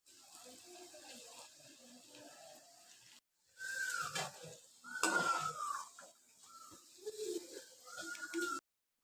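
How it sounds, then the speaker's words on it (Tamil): Cabbage pieces are dropped into hot oil and deep-fry with a bubbling, crackling sizzle that swells in bursts after a brief pause, close and fairly quiet. "இப்போ இதில் கொஞ்சம் கொஞ்சமாக போட்டு பொரிச்சு எடுக்க போகிறோம்."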